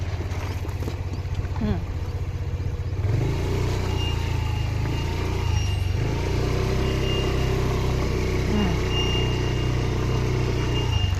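A car rolls downhill during a driving lesson, its engine a steady low drone throughout, with faint background sounds.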